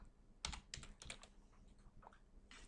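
Code is typed on a computer keyboard, a quick burst of close keystrokes followed by a few scattered, softer taps.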